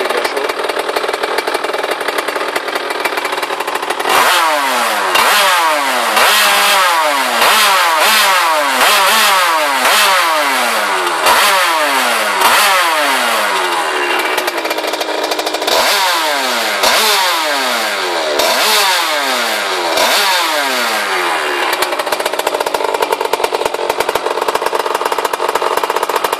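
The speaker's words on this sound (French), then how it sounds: "J'accélère pas comme ça dans le vide à froid." A Derbi Senda 70 motorcycle with a Conti exhaust and 70 kit revs hard again and again, each loud two-stroke blip rising and falling sharply between brief idle, close and raw throughout.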